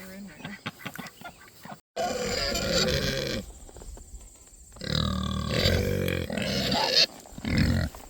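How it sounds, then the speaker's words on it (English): Idaho Pasture pigs grunting and snorting close by in several bursts, with pauses between, some long rough grunts and squeals. "Another fun thing we've had is raising these pigs"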